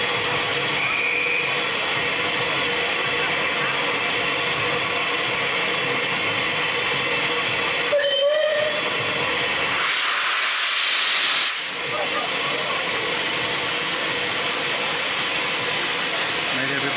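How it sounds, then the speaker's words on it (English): Loud continuous hiss of steam fills the scene with a rumbling train in the background; a brief squeal and a voice cut through near the end. "the train is about to pass through."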